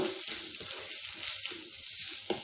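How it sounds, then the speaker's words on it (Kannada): Ginger, green chilli and garlic sizzle and fry in a pan, a steady close hiss with light stirring clatter, no voices. "ಹಸಿಮೆಣಸಿನ್ಕಾಯಿನ ಇದನ್ನು ಹಾಕ್ಕೊಂಡು ಸ್ವಲ್ಪ ಹುರ್ಕೊಳ್ಳೋಣ"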